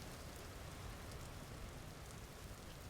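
Steady rain falls in the Vintage Story video game, a soft, even hiss of drops with no gaps, faint and continuous throughout.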